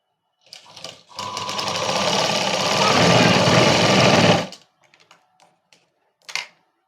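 A sewing machine stitches a princess cut blouse in one continuous run of rapid mechanical clatter lasting a few seconds, close and loud, with faint handling clicks before and after.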